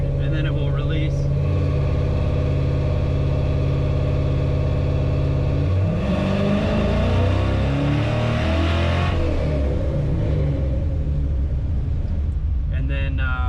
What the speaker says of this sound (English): Dyno's going to hold it at 2500 and then it will release.